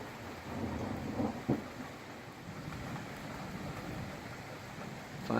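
Thunderstorm thunder rolling at a distance, a faint continuous low rumble over steady rain hiss, with a couple of soft knocks and a slight swell at the end.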